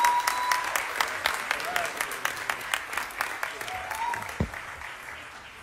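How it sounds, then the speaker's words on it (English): A civic appointment audience in Philadelphia claps for several seconds, the applause dense at first and gradually thinning, with a few sharper individual claps and a brief thump near the end. "Put your hands together for a warm round of applause for Will Mager"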